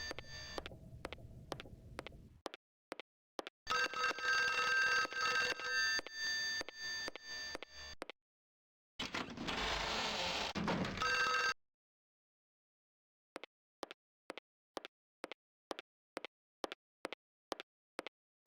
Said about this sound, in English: You don't hear a phone ringing?